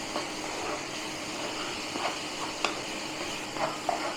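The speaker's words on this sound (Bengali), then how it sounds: "নারকেল একটু ভেজে নেব।" Grated coconut fries in a pan for Bengali ros puli pitha, giving a steady, close sizzling hiss broken by a few light scrapes as it is stirred.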